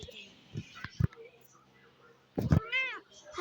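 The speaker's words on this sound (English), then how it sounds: "this is the one of Nico, the cat" A house cat meows once clearly near the end, a short rising-falling call, after faint voices and a few knocks and thumps earlier.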